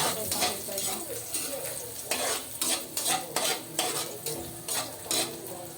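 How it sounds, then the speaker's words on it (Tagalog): Onions mixed into hot frying oil for a sardine dish, with steady sizzling under repeated scraping strokes of a utensil against the pan, close and moderately loud. "Mix natin yung sibuyas."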